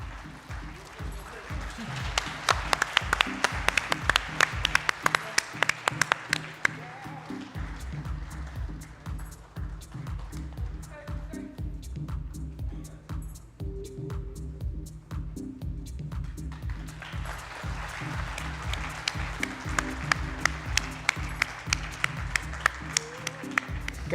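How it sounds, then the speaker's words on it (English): Sustained applause from a summit audience fills the hall, a dense wash of many hands clapping that swells at the start and again near the end, with steady thumping underneath throughout. "Can we have a huge round of applause,"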